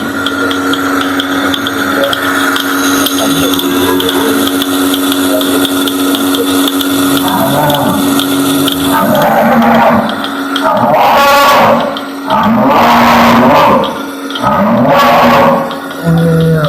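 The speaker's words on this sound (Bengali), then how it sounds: "এটা হলো আপনাদের তুরস্কের মিল্কিং মেশিন" A Turkish milking machine runs on a dairy farm with a continuous mechanical hum and a steady tone, close by, while voices speak over it during the second half.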